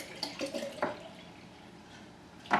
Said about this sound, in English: I just open up a fresh gallon and I pour it straight from the top